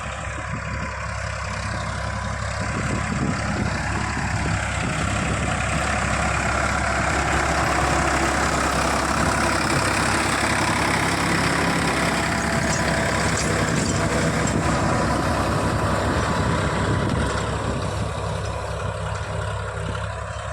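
A tractor ploughs a green manure crop of jeeluga into a field on a natural farm, its loud, heavy engine droning steadily and close throughout, with no talking.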